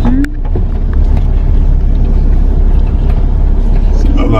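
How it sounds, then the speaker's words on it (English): Steady traffic rumble on a busy Hollywood street, with cars passing close by in a continuous, loud wash of engine and tire noise and no clear gaps between vehicles. "I'm on a busy street, so cars will come."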